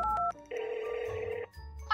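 Telephone in a Minecraft roleplay rings with one steady electronic trill lasting about a second, loud and clear, framed by short game sounds before and after.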